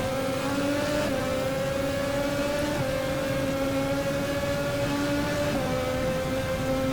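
Formula Classic race car engine in the video game Automobilista at Jacarepagua, a loud continuous high-revving whine held near steady with brief dips at gear changes, alone without talk.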